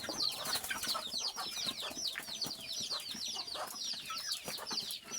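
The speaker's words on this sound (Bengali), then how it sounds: "আমার এই সাইডে যে মুরগিটা আছে আমি সেটাও কিন্তু এখন ছেড়ে দেবো।" Desi chickens kept at home cluck and chatter continuously in a close, busy flock, with occasional wing flaps and no talk over them.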